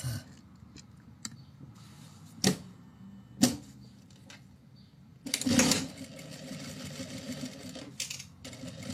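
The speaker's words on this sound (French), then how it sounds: "Et là, on va venir coudre à 1 cm." Sewing machine stitching a fabric pouch at 1 cm seam allowance, short bursts of mechanical running with clicks and a longer stretch of stitching near the end, close and fairly quiet, no talk.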